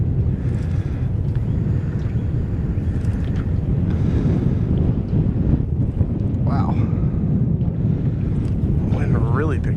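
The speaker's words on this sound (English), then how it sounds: "The wind is picking up here through the narrows." Steady wind gusting over open water through a narrows during a fishing session, a constant loud broadband roar with buffeting against the microphone, a few faint higher tones breaking through near the end.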